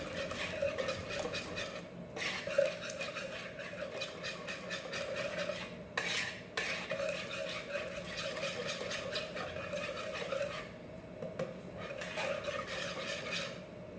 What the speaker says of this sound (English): we'll mix this until everything is thoroughly combined